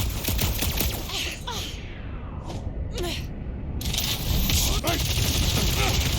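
Blasts of weapon fire in the Guardians of the Galaxy video game come in rapid bursts with scraping mechanical clatter, mixed under a character's energetic talking.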